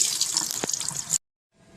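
Water runs from a tap as a sponge is rinsed out, a close, steady splashing for just over a second before cutting off abruptly, followed by a faint trickle.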